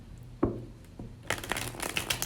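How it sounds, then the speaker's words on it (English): Tarot deck being shuffled: a single sharp riffle snap early on, then a dense burst of papery card flutter and slaps toward the end, close and fairly quiet with no talking. "One more shuffle."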